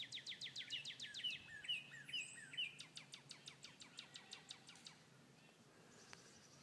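A bird sings in the woods: rapid series of bright chirps in quick repeated phrases, fairly close and clear, fading to quiet near the end.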